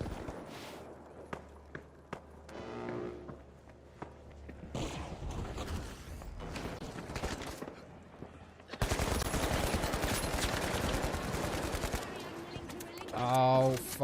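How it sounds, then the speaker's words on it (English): Video game gunfire crackles in scattered shots and rapid bursts, growing into a dense, loud stretch of automatic fire midway, with mechanical clicks and voices talking over parts of it. "I'm being shot from behind"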